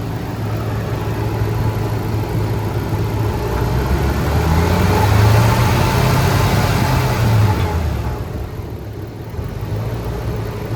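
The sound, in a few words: car engine idling, fuel injectors ticking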